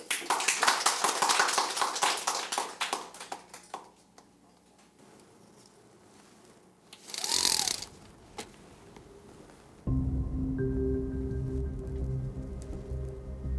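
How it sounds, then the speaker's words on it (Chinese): An audience at a company meeting applauds to welcome the general manager: dense clapping for several seconds that fades out. A brief sharp whoosh follows, then steady music. "让我们掌声欢迎总经理。"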